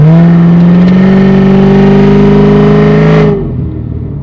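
A C7 Corvette Z06 engine revs hard and climbs steadily in pitch for about three seconds, loud and close, then cuts off sharply to a low idle.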